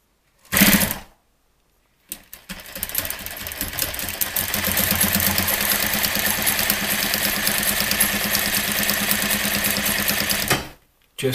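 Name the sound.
sewing machine stitching drapery heading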